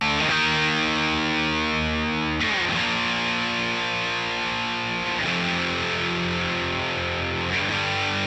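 Heavily distorted electric guitar chords chug continuously, with a chord change roughly every two and a half seconds, loud and dense with no voices.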